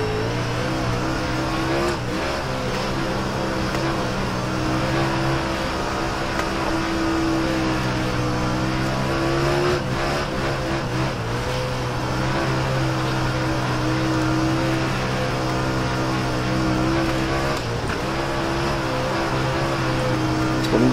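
Super late model race cars in iRacing roaring off at the green flag, a steady, loud droning engine pack with rising harmonic revs held throughout without letting up.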